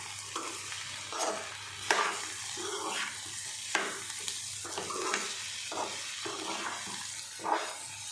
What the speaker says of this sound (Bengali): এই নাড়াচাড়াটা করছি, সুন্দর লাগছে।